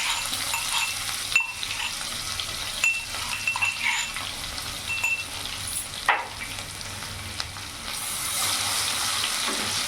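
Crushed garlic frying in oil in a pan, close and sizzling, with crackles and spatters that rise and fall, a few sharp stirring clicks, and a steadier sizzle building near the end.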